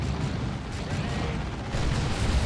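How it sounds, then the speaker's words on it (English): Ork stick bombs going off in Dawn of War 2 during a Space Marines versus Orks battle, a dense continuous rumble of overlapping blasts that swells louder toward the end. "Some stick bombs chucked in."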